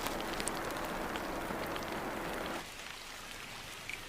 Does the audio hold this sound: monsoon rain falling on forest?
yes